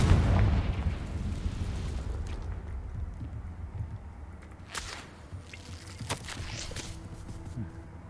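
The Confringo fire-blast spell goes off in Hogwarts Legacy with a heavy explosive burst at the start that decays into a rumbling tail, followed later by a few sharp cracks against a quieter game ambience.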